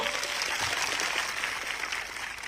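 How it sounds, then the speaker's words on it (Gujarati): A crowd at a political rally in Khedbrahma claps for a leader, giving a dense, steady wash of applause throughout. "આજે આ મંચ પરથી એમના માટે જોરદાર તાળીઓ પાડી લો"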